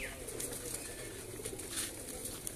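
Breeder pigeons, including an old Lakha pigeon, coo softly under a steady rooftop background hiss, with faint chirps scattered through. No one speaks.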